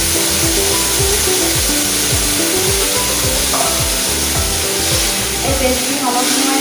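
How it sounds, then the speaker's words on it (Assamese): A paste of tomato, ginger, garlic, chili and onion fries in hot oil with a bay leaf, hissing loudly and continuously up close while a utensil stirs with repeated rhythmic scrapes. "এই পেষ্টখিনি অলপ সময় ভাজি লওঁ"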